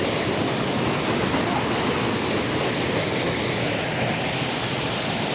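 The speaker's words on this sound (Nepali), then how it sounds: "र त छाँगा रहेछ यहाँनिर चाहिँ है" Rushing water pours steadily beside a river on rough, rocky ground, a dense unbroken roar of falling water heard close and loud, with no voices.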